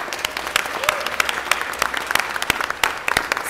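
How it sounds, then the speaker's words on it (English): Audience applause at a City of Los Angeles LGBT Heritage Month celebration, a burst of clapping from a moderate crowd with scattered sharp claps and some voices over it. "we're going to give her a round of applause"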